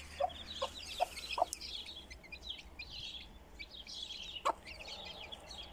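A hen clucks softly in short bursts while her chicks peep and chirp busily around her outdoors, with a faint steady hum behind.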